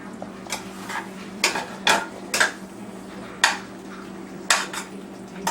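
A spoon stirs mushrooms sautéing in a pan for an Indian-style green mushroom gravy, giving several sharp metallic scrapes and clinks at irregular intervals over a faint steady background hum.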